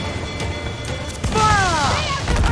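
A ship's cannon fires in Assassin's Creed IV Black Flag, a single heavy boom that hits partway through and then rumbles on at sea. Shouting crew voices rise over the blast.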